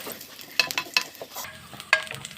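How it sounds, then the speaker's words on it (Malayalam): Green chillies and garlic are stirred in hot oil for semiya biriyani, giving a soft sizzle under a few sharp utensil scrapes and clinks against the pan, close and moderately loud. "ഇതിൻ്റെ അകത്തേക്ക് നമുക്ക് പച്ചമുളകും വെളുത്തുള്ളിയും കൂടി ഇട്ട് കൊടുത്തിട്ട് ഒന്ന് മിക്സ് ചെയ്ത് കൊടുക്കാം"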